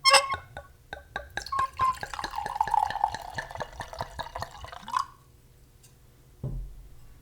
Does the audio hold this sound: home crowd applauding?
no